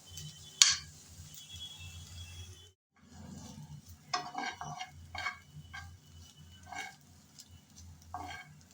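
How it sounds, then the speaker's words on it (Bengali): Onion and garlic frying over medium heat as a spatula stirs them in the pan, soft intermittent scraping and clinks over a low sizzle, with one sharp metallic tap early on and a short pause. "নেড়ে চেড়ে এই পেঁয়াজ রসুন হালকা ব্রাউন কালার করে ভেজে নিয়েছি"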